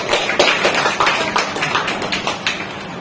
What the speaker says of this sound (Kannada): ಚಪ್ಪಾಳೆ.